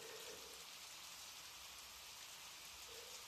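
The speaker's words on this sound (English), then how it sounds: "Of all the time in the world, it had to rain when I was walking home." Steady rain falls, a soft, even hiss of drops with no pauses, faint and continuous like rain heard while walking home outdoors.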